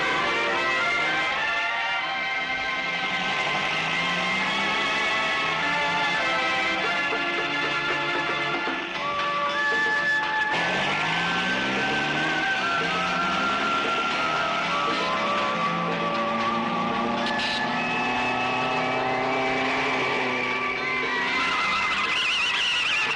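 A car's tires squeal and skid as it takes a turn. The loud, continuous screech with shifting whining tones runs unbroken for over twenty seconds.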